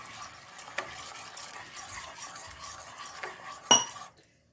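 A whisk stirring milk in a pan for pasta, with soft scraping swirls and light metallic clinks, including one sharp clink near the end before the sound drops away.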